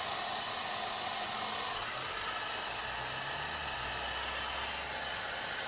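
A heat gun on its low setting blows a steady, close hiss and whoosh of hot air while warming a Glock 43 part, continuous and unbroken throughout.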